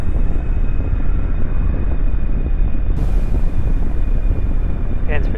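Jet engine of an aircraft in Kerbal Space Program throttled back to half power, a steady loud broadband roar filling the whole clip with a continuous airy rumble and no talk.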